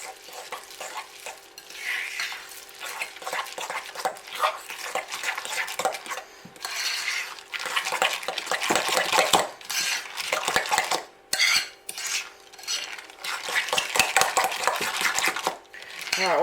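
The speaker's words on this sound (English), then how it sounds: "you want to add 1 cup of choc chips. And you want to mix that in" Chocolate chips being mixed into smooth brownie batter in a bowl: steady, repeated scraping and clinking of a utensil against the bowl, moderately close, with a few short breaks and no talking.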